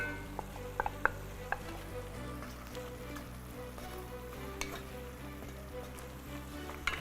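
Peppers and garlic sizzle steadily in a hot pan for potato oturtma, a soft continuous frying hiss with a few sharper pops and crackles near the start, close and alone.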